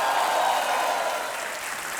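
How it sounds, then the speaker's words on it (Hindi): Studio audience at a televised quiz show applauds a contestant's win, a dense steady wash of clapping that fills the room, loud and continuous throughout with no voices over it. "तालियां जोर से बजें इनके लिए।"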